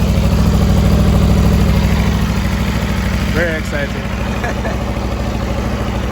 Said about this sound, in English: Italian V4, guys. This is with the upgraded Akrapovic exhaust.